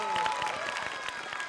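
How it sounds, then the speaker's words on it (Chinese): A studio audience applauds and cheers for eight young child street dancers after a dance battle, dense clapping throughout with crowd noise and some voices mixed in. "同样把掌声送给我们八位小朋友们"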